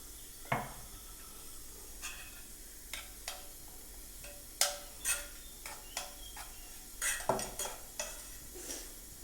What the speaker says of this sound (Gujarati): જો રાઈ ફૂટી